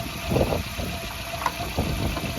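A Citroen 1.4 litre fuel-injected car engine runs at a steady idle, with a continuous mid-pitched hum and faint knocking pulses sounding close by.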